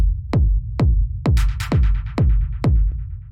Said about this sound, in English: It's just a little clap,